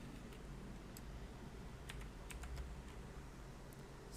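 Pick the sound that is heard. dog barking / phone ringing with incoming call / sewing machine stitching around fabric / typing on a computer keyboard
typing on a computer keyboard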